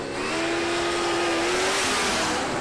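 A Holden Gemini drag car launches down the strip at Palmyra Raceway, its engine loud and close with a continuous, slightly rising roar.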